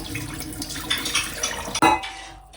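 Water pours and splashes steadily for a couple of seconds as soaking water is poured off sticky rice, then a sharp clunk and a final gush as the flow stops.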